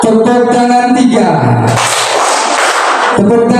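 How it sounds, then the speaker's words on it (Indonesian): A voice speaks briefly, then a group of teachers at a positive school culture workshop breaks into a short, loud burst of dense hand clapping that stops abruptly. "Tepuk tangan 3."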